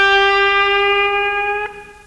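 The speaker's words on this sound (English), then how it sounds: "they actually play a note that's halfway between the minor third and the major third" A single sustained electric blues guitar note bent to sit halfway between the minor and major third, ringing steadily and loudly on its own, then dropping slightly in level near the end as it decays.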